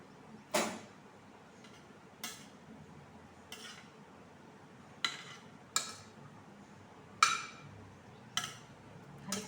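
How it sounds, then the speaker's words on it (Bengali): Metal spoon scraping and knocking against a pot while fried pieces are tipped in and stirred for fried rice, giving a run of sharp clinks spaced a second or so apart over faint background hiss, with no talking. "ভাজাগুলোকে আমি এই সব হাঁড়ির মধ্যে দিয়ে সবগুলো ঢেলে নিয়ে নাড়াচাড়া করে নেব।"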